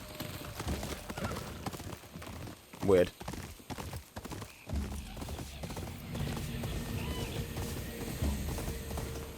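A horse in the PS5 game Ghost of Yōtei clip-clops along at a steady gait. A sharp whinny rises midway, and someone talks over the hoofbeats.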